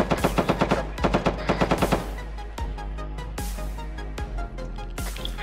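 Rapid machine-gun bursts from turrets in a video game, loud close rattling volleys in quick stuttering runs, then heavier spaced shots over a continuous low rumble.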